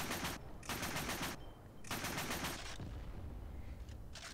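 A Flak 38 20mm anti-aircraft gun in a video game fires in rapid automatic bursts, three loud sustained volleys of cannon fire separated by short pauses, with some lingering rumble and a faint extra shot near the end.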